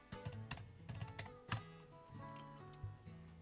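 Computer keyboard typing with quick, uneven key clicks in short clusters, close and fairly soft, over quiet background music.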